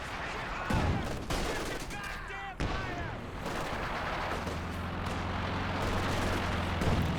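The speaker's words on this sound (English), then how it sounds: "Looks like he's using a barrage there." Artillery barrage in the real-time strategy game Company of Heroes 2 during a 1v1 match, a dense rumble of impacts and firing with a steady low drone, commentary talk over it.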